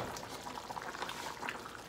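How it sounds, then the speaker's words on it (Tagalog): Soft, continuous bubbling of sautéed squash cooking at a rolling boil in a pot, faint and steady with scattered small pops. "Kumukulo na siya."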